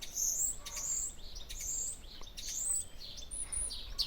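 Birds sing and chirp in high, bright phrases from several directions, faint and distant in an otherwise quiet outdoor setting.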